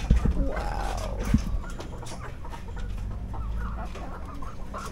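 Chickens cluck close by, short irregular calls over a low rumble of outdoor background noise.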